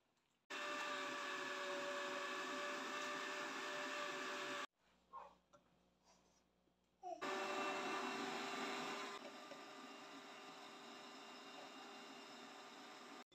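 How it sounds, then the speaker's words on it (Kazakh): An electric meat grinder mincing salted tomatoes for adjika whirs in a loud, steady run, stops briefly with small clatters, then starts again and keeps running to the end. "Енді ет тартқыштан өткізе беруге болады."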